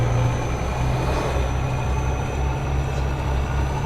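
Mitsubishi FE 449 truck engine in Euro Truck Simulator 2, a steady low rumbling drone with a constant hum, moderately loud and unbroken, with no talk.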